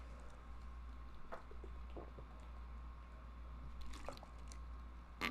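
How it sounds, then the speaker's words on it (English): A person drinks water during a Bloodborne gaming session, with a few faint, brief gulps and mouth clicks spaced apart over a low, steady background hum. "I apologize if You can hear me drinking water."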